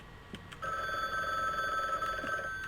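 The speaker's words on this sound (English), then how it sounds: "Oh, the phone." An old-style telephone rings in the horror video game The Bookwalker, a single sustained electronic trill at moderate volume after a couple of faint clicks, with no talking.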